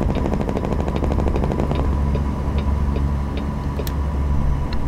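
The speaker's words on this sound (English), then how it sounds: "this engine sound mod sounds better, I think. Especially the brakes, the exhaust brakes" Heavy truck engine with a modded sound in American Truck Simulator, a steady loud low diesel rumble with rapid rattling exhaust-brake pulses running throughout, and a few faint clicks on top.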